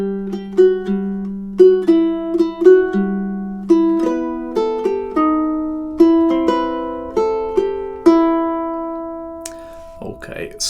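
Ukulele picking measures 11 and 12 of a melody, a quick run of plucked notes in a steady rhythm, close and alone, ending with a short scrape or shuffle.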